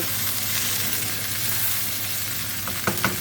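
Gnocchi frying in oil in a pan gives a steady, dense sizzle and crackle, close and even, with a couple of soft knocks near the end.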